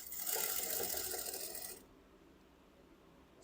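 Sewing machine stitching a border strip onto fabric, a steady close whirring run for nearly two seconds that stops abruptly, leaving quiet room tone.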